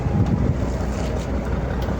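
Low rumbling of a boat on open water off Zamboanga City, with steady wind buffeting the microphone throughout.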